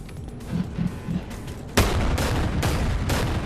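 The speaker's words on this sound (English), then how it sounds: "these things came out of nowhere and started shooting at me" Gunfire in the video game Bonelab, starting as scattered softer shots, then a loud close volley of rapid bursts that continues to the end.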